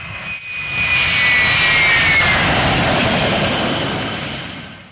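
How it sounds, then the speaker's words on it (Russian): Aircraft engines during in-flight refueling, a loud sustained jet roar that swells in and holds steady, with a thin whine running through it and no talk. "Оператор контролирует процесс перекачки топлива, после чего пилот уменьшает скорость, и самолеты разъединяются"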